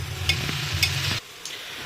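Vegetables fry without water in chicken butter for a chicken stew, crackling with a close, steady sizzle while a utensil scrapes and stirs through the pan in a few sharp strokes.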